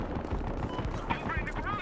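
Gunfire in the video game Battlefield Hardline, a run of sharp repeated shots at an irregular pace, with a player's voice talking over the bursts.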